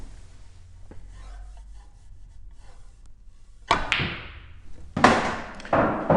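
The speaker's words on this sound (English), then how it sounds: "let me just show you that this is a straight double for a medium pace stun shot" Pool cue strikes the cue ball for a medium-pace stun shot on a straight double, giving a sharp click, then a second crack of ball on ball and a cushion thud, all close and clear with no talk.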